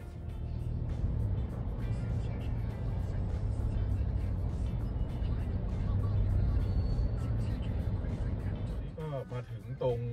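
City traffic crawls in a weekday morning jam on Rama 4 road, heard from inside an ORA Good Cat as a steady low rumble of engines and passing vehicles, with a voice speaking over it.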